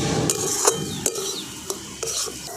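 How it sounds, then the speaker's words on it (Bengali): A spoon stirs thick semolina dough in a pan while it cooks into a stiff dough for taler pitha. Scraping strokes fall at a steady pace, with a few sharper clinks of metal against the pan and a low sizzle underneath. "অনেকক্ষণ ধরে নেড়ে নেড়ে এটাকে সুজিটাকে সেদ্ধ করতে হবে"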